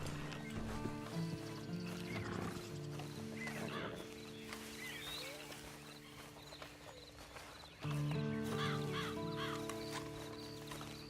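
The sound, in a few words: horse snorting and hooves in a video game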